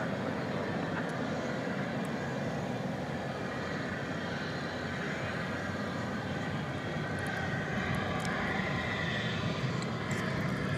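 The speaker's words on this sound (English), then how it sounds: "It's a MAX 8 arriving." Boeing 737 MAX 8 airliner arriving at night at DFW Airport, a continuous low engine rumble and whine held steady at a distance, with no voices.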